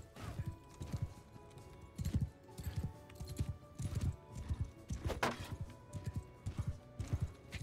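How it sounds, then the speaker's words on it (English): Horses clip-clop at a gallop in a Viking-era video game, a steady drumming of hooves with the odd whinny and crash in the background. "And these aren't even good horses."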